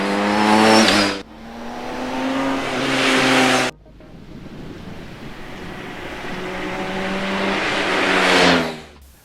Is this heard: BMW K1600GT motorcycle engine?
yes